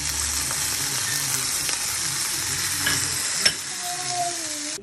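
Carrots, chiles and onion tumble into a cooking pot while making pickled asparagus with jalapeños, over a loud, continuous sizzle with stirring noise and one sharp knock of ingredients landing.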